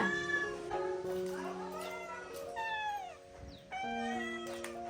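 Several cats meow over one another close by, a continuous chorus of rising and falling cries, in a village setting around fish being handed out.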